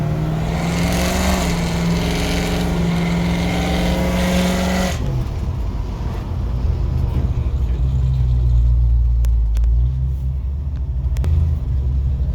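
A 1984 Chevrolet C10 truck with a 383 stroker V8 of about 420 horsepower, heard close on a back road. A droning engine note for several seconds gives way to a deep, loud rumble under acceleration.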